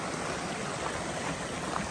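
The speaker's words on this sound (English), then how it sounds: "We got ourselves a little waterfall again." A small waterfall pours into a stream in Cape Chignecto Provincial Park, Nova Scotia, giving a steady broadband rush of falling water heard close and alone.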